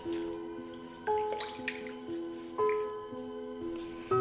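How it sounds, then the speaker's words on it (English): Fresh mint leaves rinsed in water, giving soft close-up drips, splashes and wet squishing in short bursts, quiet and without talk. "We will only use the leaves. Rinse them 2 times."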